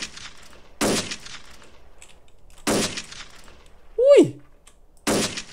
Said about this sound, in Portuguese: Vou dar tiro igual.